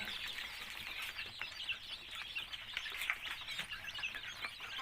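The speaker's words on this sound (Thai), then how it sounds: "นี่นะครับเป็นลูกไก่นะครับที่เราเพาะขึ้นมาจากตู้เมื่อสักครู่นี้นะครับ" Newly hatched chicks from an incubator cheeping continuously, a dense chorus of thin high peeps close by and fairly quiet, with no talking.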